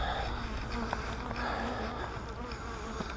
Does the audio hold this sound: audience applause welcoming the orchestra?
no